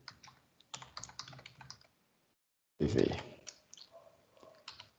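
Computer keyboard being typed on while writing JavaScript code, short bursts of clicky keystrokes near the mic with a pause between, mixed with a person speaking.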